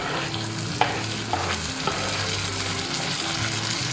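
Tomato hits a pot of simmering parrot fish curry with a steady close sizzle, a spoon stirring and scraping through it and a few sharp clinks against the pan.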